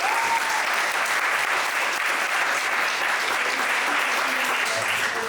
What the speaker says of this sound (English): Let's do a round of applause for all these candidates.